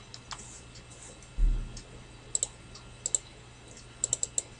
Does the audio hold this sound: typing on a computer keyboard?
yes